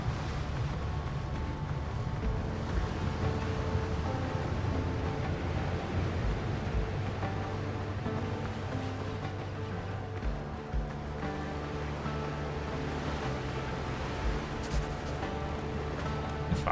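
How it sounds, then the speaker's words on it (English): Steady ocean surf washes continuously through a Windrose sea setting, a broad low roar of waves that stays fairly even and moderately loud throughout, with faint tonal game ambience layered on top. "Oh, I can hear the ocean."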